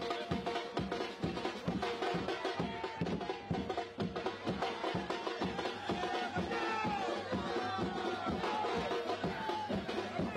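Crowd celebrating a Maharashtra Navnirman Sena (MNS) victory in Dadar: dense, loud festive noise with a steady, driving drum-like beat throughout.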